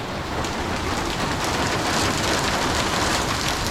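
Steady heavy rain hisses and patters on surfaces, a dense, continuous wash of sound with no voices.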